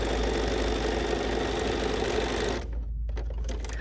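A sewing machine runs steadily at close range along a quilt block seam, a continuous fast whirring hum that cuts off near the end, followed by faint handling clicks.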